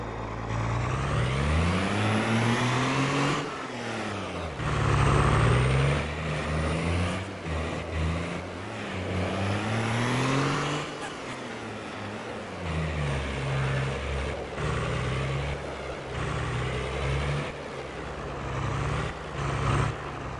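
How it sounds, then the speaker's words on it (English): A truck engine drones continuously as it drives in Farming Simulator 22, the pitch rising and falling through gear changes, loud and close for the whole stretch with no talk over it. "We're going to use this truck."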